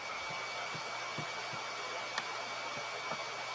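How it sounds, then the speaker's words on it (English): A vacuum cleaner drones with a steady, broad whooshing roar, continuous and fairly loud, with faint knocks underneath and no talking. "I feel like I hear a vacuum"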